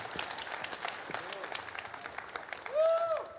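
Scattered applause from a crowd, moderately quiet and steady, with a rising tone briefly cutting through near the end.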